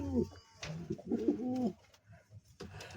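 Sirazi fancy pigeons coo in a close, lively run of throaty, rolling calls with brief pauses, the cooing overlapping itself through most of the moment.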